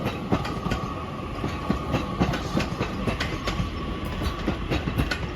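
A Northern passenger train pulls out of Crewe station bound for Manchester Piccadilly via Stockport, its wheels rumbling and clacking steadily over the rail joints at close range, with no voices.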